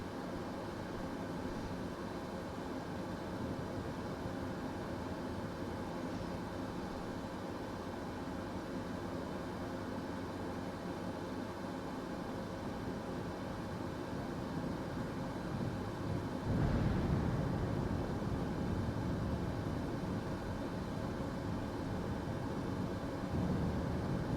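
A Heart Aerospace ES-30 hybrid airliner taxiing in Microsoft Flight Simulator 2024, heard as a steady engine drone that swells slightly louder partway through, continuous and close with no talk.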